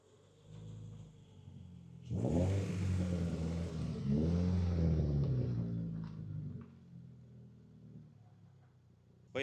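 A Toyota GR86 engine with a single-exit catback exhaust revving in a shop, a deep burbling rumble that climbs and falls through several revs over about four seconds, close and loud, then settles back to idle.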